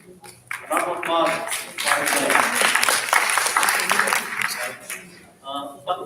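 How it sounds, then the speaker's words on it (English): A crowd claps for several seconds while someone speaks over the applause, which swells then fades near the end. "round of applause"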